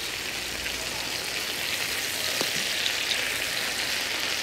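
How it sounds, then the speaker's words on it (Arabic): Onions sizzle steadily in ghee, a continuous close frying hiss with light crackle that holds level throughout, with no talking over it. "حسيت ان البصل بدا يدبل وهيك ياخذ اللون اللطيف مع السمن"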